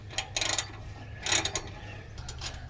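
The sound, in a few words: ratchet tightening intake piping on Subaru BRZ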